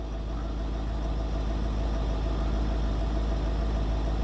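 A car engine idles steadily and evenly close by as the transmission is shifted into drive, a constant low hum with no talking over it.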